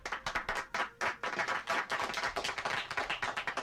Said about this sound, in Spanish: Dense un aplauso.